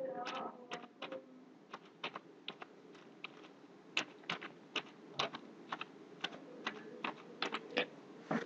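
Typing an email address on a computer keyboard, a long irregular series of sharp individual key taps and clicks, close and distinct against a quiet background.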